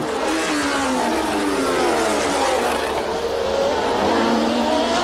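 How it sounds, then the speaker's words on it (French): Formula 1 cars from 1982 racing down a straight, a V8 Ford Cosworth against a V12 Alfa Romeo, their high-pitched engines wailing steadily with rising and falling pitch, loud and continuous for several seconds. "Dans la ligne droite, c'est le V8 Ford Cosworth qui s'impose sur le V12 Alfa Romeo"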